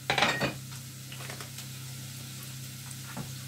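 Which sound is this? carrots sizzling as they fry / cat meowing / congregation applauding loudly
carrots sizzling as they fry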